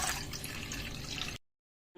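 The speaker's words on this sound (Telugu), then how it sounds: "ఇప్పుడు మనం ఇలా ఒక స్టీల్ బౌల్ తీసుకొని అందులోకి నీళ్ళు వేసుకొని పెట్టుకుందాము" Tap water pours steadily into a steel bowl in a home kitchen, a close, continuous splashing rush lasting just over a second before cutting off abruptly into silence.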